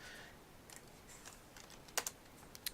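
A computer keyboard types a short Unix shell command during a SELinux security lab, heard as a few sparse, faint key clicks with pauses and two slightly louder taps near the end.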